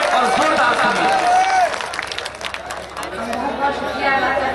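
A crowd at a ghazal gathering in Pratapgarh claps and chatters, the applause strongest early on and then thinning into a softer, scattered patter and murmur.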